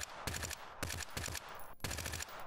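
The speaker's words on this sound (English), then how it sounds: "Somebody's shooting." Rapid automatic gunfire in the shooter game Front, several bursts of fast repeated shots with short gaps between them, at moderate distance.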